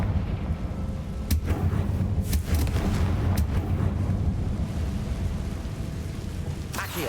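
Confringo blasting spell from a Harry Potter-style video game, heavy rumbling explosion blasts with sharp cracks at intervals over a low, sustained boom and debris noise.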